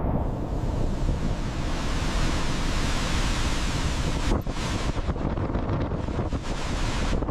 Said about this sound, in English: This is the raw power of the typhoon.